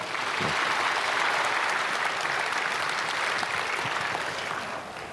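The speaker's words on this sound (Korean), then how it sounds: "박수로 인도자들 맡겠습니다" Sustained applause from a church congregation at a Christmas service, dense and steady throughout before tapering slightly at the end, with no talk over it.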